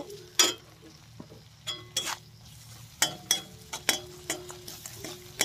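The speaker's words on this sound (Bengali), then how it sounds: "এবার ভালো করে মশলাটাকে কষিয়ে নেব।" Spices with salt and turmeric frying in a pan while being stirred: a soft low sizzle under a series of sharp metallic spoon scrapes and clinks against the pan, irregular and close.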